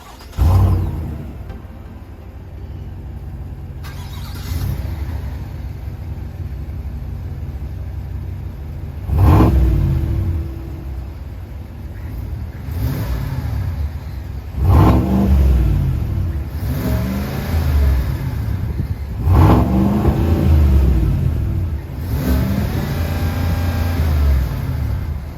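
A GMC Sierra AT4X pickup truck with a cat-back performance exhaust revs hard several times in a row, each burst rising to a throaty roar and falling back to a rumbling idle.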